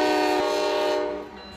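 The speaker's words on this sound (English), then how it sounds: "The roar of the engine follows the train." A speeding train roaring along the tracks, a loud, dense tonal roar with a horn-like sustained chord that fades slightly toward the end.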